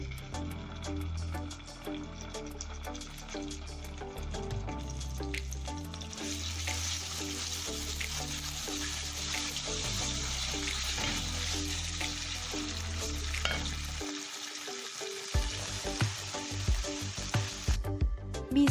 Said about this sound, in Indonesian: Lalu tumis bumbunya.